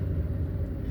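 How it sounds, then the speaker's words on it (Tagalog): Light to moderate city road traffic in Davao City, a steady continuous rumble of passing cars and vehicles throughout, fairly close and even in level with no voices. "light moderate traffic"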